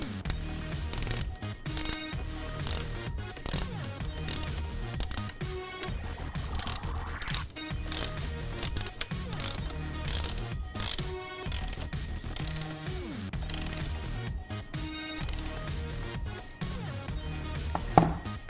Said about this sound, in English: And then grab your T45, come down here and secure this clamp.